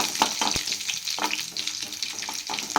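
Tempering spices crackling in hot oil for a cucumber chutney, a close sizzle with sharp pops and spatters scattered irregularly through it.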